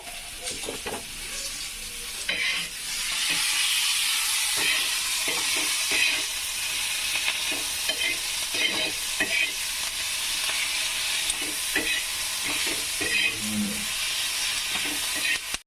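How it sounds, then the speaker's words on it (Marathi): Green chillies and cumin roast on a hot griddle for a Vidarbha-style green chilli thecha, giving a steady close sizzle and hiss with scattered scrapes and knocks as the chillies are pressed down. "मस्त मिरच्या भाजून घ्यायच्या अशा तव्याने अशा प्रेस करायच्या"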